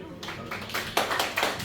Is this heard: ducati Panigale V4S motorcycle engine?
no